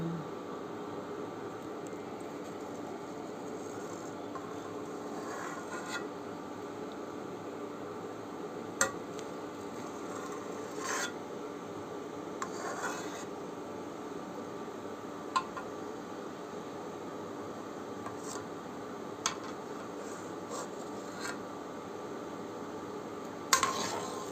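Jackfruit jaggery syrup with lime stirred in a pot, a low continuous bubbling simmer with scattered light scrapes and clinks of the stirring tool against the pot, steady and unvoiced.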